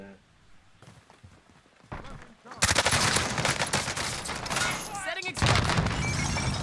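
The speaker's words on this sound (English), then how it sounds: "It's a dude right here shooting at me." Rapid automatic gunfire from a CR-56 AMAX rifle in Call of Duty Warzone erupts after a quieter start, loud sustained bursts with a brief pause, while a player's voice talks over the action.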